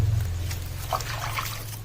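Water trickles and splashes as it is poured onto vegetable plants, including leafy greens, in a small garden, over a steady low mechanical hum.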